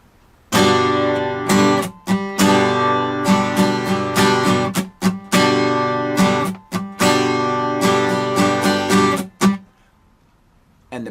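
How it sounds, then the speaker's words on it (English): Acoustic guitar strummed in a steady down-up pattern, alternating ringing chords with sharp muted, percussive strums, played close and loud for about ten seconds before stopping. "if we're strumming a pattern that goes like this"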